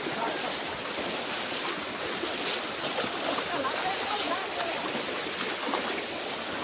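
Rainwater gushes down a small slope during heavy rain in Kevdapara village, Gujarat, a steady, close, rushing roar of flowing water that never lets up.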